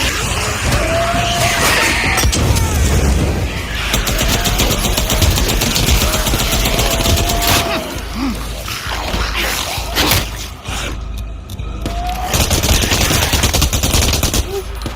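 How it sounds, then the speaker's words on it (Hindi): Gangsters and zombies trading fire in a video game: loud, nearly continuous bursts of rapid gunshots and machine-gun rattle, with a brief lull before the shooting resumes. "इसीलिए गोली चलने की आवाज आ रही उधर से"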